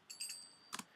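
A light, cymbal-like Middle Eastern percussion hit from a drum pattern gives a quiet jangly metallic shimmer, followed by two brighter quick strikes, heard alone and faintly.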